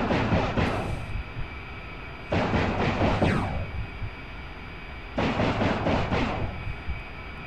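Aircraft cannon fire in the DCS World combat flight simulator: three long, loud bursts of rapid rattling shots separated by short pauses, with a steady engine drone underneath.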